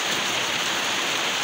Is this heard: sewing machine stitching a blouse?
no